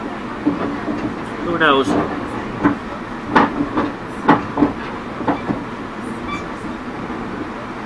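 Rail Runner commuter train rolling along the rails, a steady rumble with periodic clicks and clacks from the wheels, while people talk over it.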